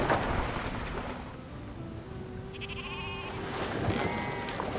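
Sheep bleating in the strategy game Civilization 5, a few drawn-out bleats over a dense low ambient game background.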